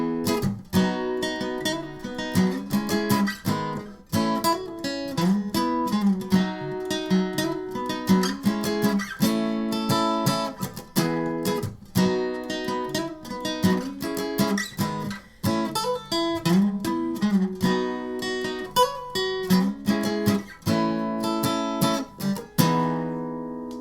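Guitar plays the verse of a song, a steady flow of clear picked notes and chords with hammer-ons, pull-offs and slides, close and alone with no talking.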